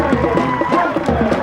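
Football fans in the stands at a 1999 high school Group 1 semifinal between Woodbury and Glassboro, a steady roar of crowd cheering and shouting that stays loud and continuous throughout.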